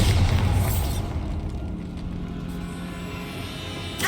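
In Hogwarts Legacy, a Bombarda spell lets off a deep, booming explosion whose low rumble is strongest at the start and trails away over several seconds, with a quieter burst near the end.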